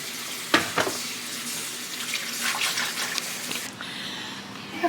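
Water runs from a kitchen tap as fresh-picked garden green beans are washed in the sink, a steady close splash with a few handling knocks and no speech.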